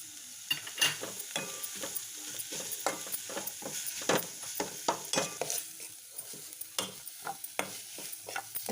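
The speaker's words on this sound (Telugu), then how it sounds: "ఇలా ఒక 1 మినిట్ 2 మినిట్స్ వరకు ఫ్రై అవ్వనివ్వాలి" Grated paneer stirred and fried in a pan, a soft sizzle under a busy run of scraping, tapping spoon strokes at an uneven, quick rhythm, close by and with no talking.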